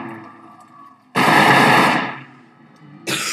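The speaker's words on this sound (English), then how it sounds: "Let's use the AK-47 for this one. This is loud." An AK-47 fires in the Minecraft video game as a loud, harsh burst of rapid gunfire lasting under a second, followed by a quieter lull and the start of another burst.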